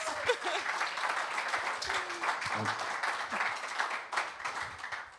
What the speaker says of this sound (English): Can we give him a round of applause for this?